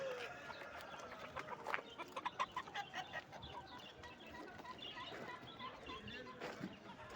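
A rooster crows amid a busy mix of other fowl clucking and chattering at a poultry market in Konya, with several birds calling close by throughout.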